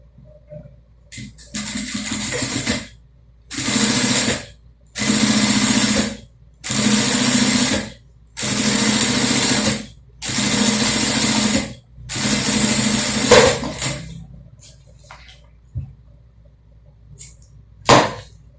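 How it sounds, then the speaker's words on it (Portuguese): A domestic sewing machine runs along a fabric edge with a straight stitch, in six or seven even bursts of whirring separated by short pauses, then a few light clicks of handling at the end, with no talk. "E aí eu vou passar uma costurinha aqui, ó, bem na beiradinha, com o ponto número 5."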